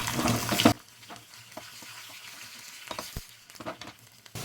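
Crushed garlic drops into hot oil with spluttering mustard seeds and dried red chillies, a loud burst of sizzle that falls to a quieter crackle with scattered pops and a few spoon clinks.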